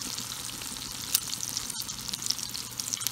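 Ground beef, 80-20, browning in a pan on a wood-fired Watchman stove, a loud steady sizzle and crackle with occasional pops and a brief stirring scrape, close up and without talk.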